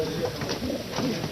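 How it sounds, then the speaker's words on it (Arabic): Janssen-breed homing pigeons cooing softly in a loft, low murmuring coos repeating over steady background noise with faint talk mixed in. "هذا حمام برضه من سلالة الجن أردن."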